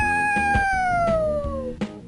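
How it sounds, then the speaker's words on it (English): A drawn-out cat meow from the video game Ozzie's World, a long tonal cry sliding down in pitch over rhythmic thumping music, loud and up front. "That cat is now dead."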